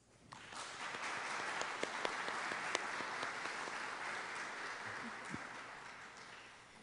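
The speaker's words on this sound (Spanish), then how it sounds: "Un aplauso para todos." Congregation applauding at Sunday Mass in church, a steady, fairly distant wash of clapping with a few sharper individual claps, fading slightly at the end.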